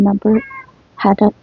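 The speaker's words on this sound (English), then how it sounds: "Sorry about the cat." A cat meows loudly and close by, two short pairs of cries separated by a brief pause.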